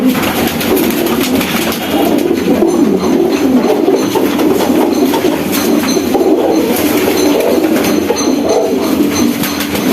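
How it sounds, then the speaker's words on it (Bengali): A flock of high-flying pigeons coos steadily at close range, layered soft throaty calls from many birds filling the space with no talk. "খুব সুন্দর কবুতর"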